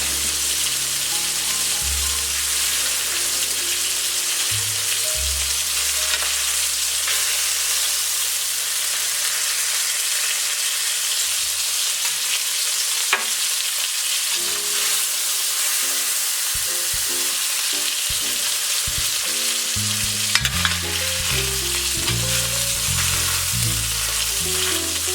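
Steak sizzles and fries in a hot pan, a steady close crackling hiss throughout with low thumps and stirring movements layered underneath.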